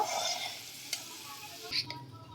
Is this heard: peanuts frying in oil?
yes